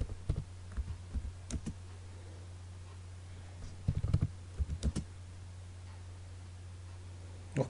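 AutoCAD 2017 commands are entered on a computer keyboard, with short commands such as circle and trim typed during drawing. Close, quiet keystrokes and clicks come in uneven bursts over a steady low electrical hum.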